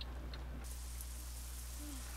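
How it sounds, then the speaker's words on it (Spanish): Steady, dense rain hiss fills a Euro Truck Simulator game scene, constant and even, with faint drops and a low rumble beneath. "Sí, está lloviendo por ahí"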